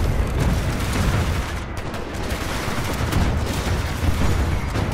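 Heavy gunfire from the PS4 shooter Titanfall 2: a loud, dense, unbroken barrage of shots and booms filling the whole stretch, with no talking over it.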